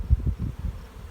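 Honey bees buzz at a hive in a brief, close burst of low, pulsing hums, heard alone.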